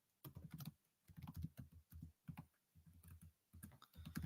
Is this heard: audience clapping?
no